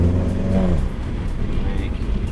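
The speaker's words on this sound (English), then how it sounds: "Get up to about 35. Brake moderately." Volkswagen GTI slowing under moderate braking from about 35 mph, engine note falling away over the first second into steady road and tire rumble, close and fairly loud, with faint voice in the cabin.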